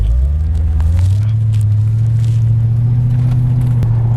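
A custom wide-body Mercedes CLK 55 AMG engine drones steadily while driving, a loud, continuous low rumble that rises briefly at the start then holds even throughout, with no talking.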